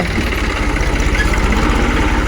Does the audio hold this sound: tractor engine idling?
yes